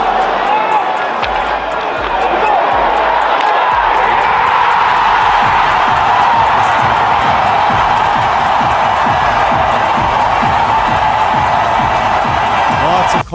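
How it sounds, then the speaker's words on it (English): A packed Edmonton Oilers hockey crowd roars after the Game 1 game-winning goal in the 2025 Stanley Cup Final against Florida. The cheering is loud and sustained, with whoops, clapping, and a crowd noise that swells and holds. "The Edmonton fans lost it after the game winner in Game 1."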